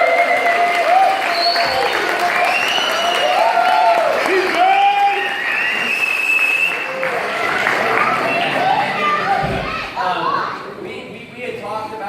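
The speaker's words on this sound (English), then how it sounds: "I just want to give a major round of applause for TJ and Julio for setting this whole thing." A crowd at a holiday party claps and cheers, with loud sustained applause mixed with whoops and shouted voices throughout.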